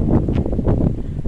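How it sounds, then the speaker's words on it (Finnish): Steady, loud wind buffeting a microphone, with low rumbling gusts that rise and fall without a break. "se on tämä tuuli"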